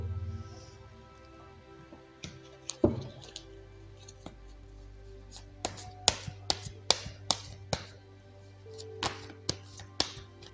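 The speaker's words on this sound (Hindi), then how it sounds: "चलिए पहले ज़रा कार्ड्स को शफल कर लेते हैं" Tarot cards are shuffled by hand in a series of sharp, crisp taps and riffles, sparse at first and then quicker and more clustered, close and fairly loud over a low background hum.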